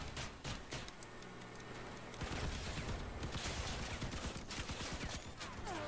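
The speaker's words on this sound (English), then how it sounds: "Up against some machine guns." Rapid machine gun fire from the video game Crossout rattles in quick repeated bursts, dense and continuous through the second half, fairly faint overall.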